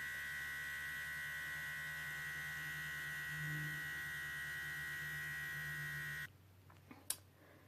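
A StylPro electric makeup brush cleaner spins a smaller makeup brush in clean water, a steady close motorized whir with a bright tonal hum that runs for about six seconds, then cuts off, leaving a couple of faint clicks.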